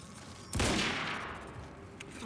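Gunfire in the video game Quantum Break, a short burst of sharp shots at moderate level over a background game mix.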